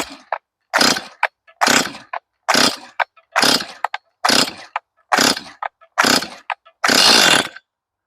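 A Stihl 241c chainsaw is pull-started again and again, making about eight sharp, loud bursts separated by short silences. The last burst sputters on a little longer as the engine briefly catches.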